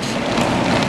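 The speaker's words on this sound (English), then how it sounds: "It's raining." Steady rain hiss, broadband and continuous, with a soft patter filling the short stretch; no voices.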